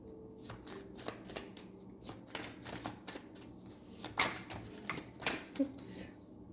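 A Kali Maa oracle card deck is shuffled by hand close up, giving a series of quick riffling, papery bursts in an irregular rhythm, with a faint voice now and then.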